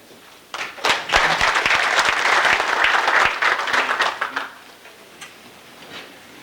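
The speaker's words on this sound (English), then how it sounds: "You humbled me by that ovation." A convention audience gives a legislator an ovation, dense applause that swells over about four seconds and then thins to a few scattered claps before fading.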